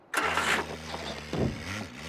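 An old car built in a former communist country that no longer exists cranks and fires. The engine catches in a sharp burst, drops briefly, then surges again and settles into a rough idle, close and clear.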